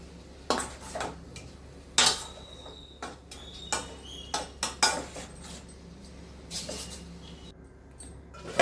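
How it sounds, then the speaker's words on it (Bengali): Chicken pieces for chicken tikka turned over in a pan with a utensil, giving scattered metallic clinks and scrapes against the cookware, several sharp knocks spaced irregularly over a low steady background. "তো চিকেনটা একটু এপিট ওপিট করে নেড়ে নেব"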